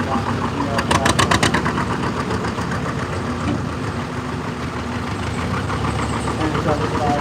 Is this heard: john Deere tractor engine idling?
yes